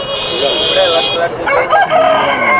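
A rooster at a country chicken market crows loudly and close by, one long, wavering call that rises and falls over market bustle.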